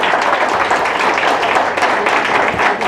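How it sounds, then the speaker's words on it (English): Audience at a charity arts fundraiser applauds a donor, a dense, steady wash of many hands clapping at close range for the full length without pause. "Please give a round of applause to Mr. Lopez for his wonderful generosity."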